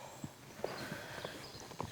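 Horse hooves clip-clop in a quick, uneven series of soft thuds over faint background noise, a horse being ridden in barrel work.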